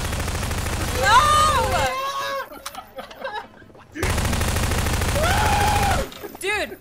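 Automatic weapon fire in the video game Garry's Mod, loud bursts lasting a second or two, returning after a quieter stretch of scattered pops, with voices partly mixed in.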